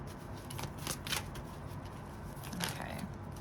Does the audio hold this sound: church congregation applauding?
no